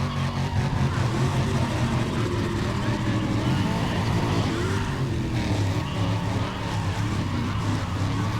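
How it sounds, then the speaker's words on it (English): Supercharged Hemi car engine from the Need for Speed ProStreet racing game, a loud, steady engine roar with some tire noise that runs throughout under game sound. "you can hear the supercharger on that Hemi"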